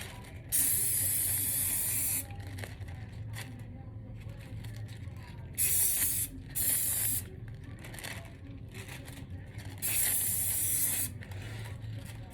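Several bursts of aerosol spray hiss onto tissue paper to seal it, each lasting about a second, separated by pauses, with a low background hum underneath.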